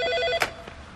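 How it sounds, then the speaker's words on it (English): A telephone bell rings in quick repeated trills, loud and close, then cuts off with a clack as the ringing stops. "That bloody phone!"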